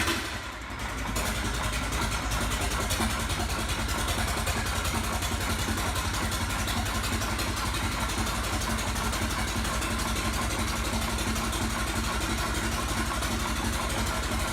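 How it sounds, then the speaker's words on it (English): A vintage 45-horsepower farm tractor engine idles steadily at about 325 RPM, well below its rated speed, a loud, continuous low rumble with an even rhythmic beat, close up and alone with no talk. "the tractor is running at only about 325 RPM, significantly below its rated speed"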